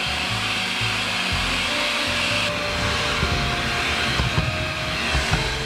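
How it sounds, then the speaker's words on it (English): A vacuum cleaner runs loud and close in a home, a steady whooshing roar with brief bumps and scraping near the end as it is moved about. "now I got a vacuum too."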